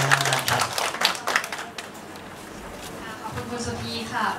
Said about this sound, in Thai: ขอเสียงปรบมือให้กับท่านด้วยครับ